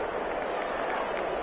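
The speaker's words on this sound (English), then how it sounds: "How about some applause for the defense there?" Crowd applause from a PS4 American football video game, a steady, moderately loud wash of clapping and cheering that fills the whole short stretch without a break.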